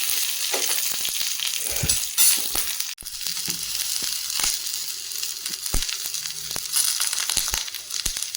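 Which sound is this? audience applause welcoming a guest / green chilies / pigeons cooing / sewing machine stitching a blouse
green chilies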